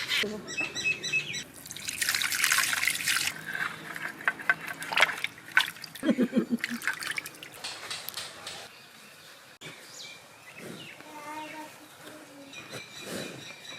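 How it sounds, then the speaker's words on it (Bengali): Climbing perch (koi fish) rinsed with water by hand, giving a stretch of splashing and pouring followed by dripping and trickling, with birds chirping faintly outdoors and brief voices nearby. "জল দিয়ে ধুয়ে নিলাম"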